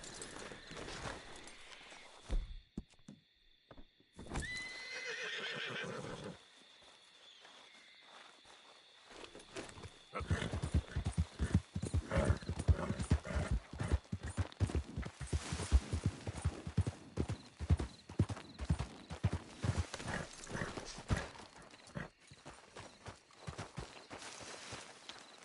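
A horse in Red Dead Redemption 2 gallops with rapid, dense hoofbeats through the second half, after quieter movement and a brief vocal-like sound earlier, heard close with no clear talk.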